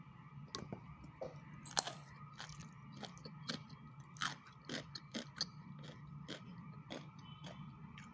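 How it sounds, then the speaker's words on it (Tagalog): Crunchy stir-fried vegetables from a pink salmon with garlic leaves dish being bitten and chewed close up, a steady series of faint crisp crunches with no talking. "Malutong pa rin po yung ating gulay."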